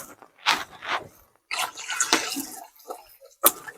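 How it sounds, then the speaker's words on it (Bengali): Water is poured into a cooking spice paste for a large village fish curry, giving several short splashing pours with gaps between them, close and fairly loud. "এবারে মশলাতে জল দিয়ে দিচ্ছি।"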